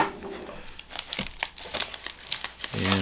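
Crinkling and tearing of a cardboard box package with sharp scissor snips, busy rustling throughout and a low rumble near the end.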